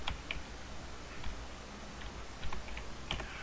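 Someone types a company name on a computer keyboard: quick, light key clicks come in a loose, uneven rhythm, soft and fairly close, over a quiet background hum.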